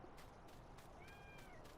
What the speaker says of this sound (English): Sorry if you hear our little feline friend. That's Ralph, our pest control cat.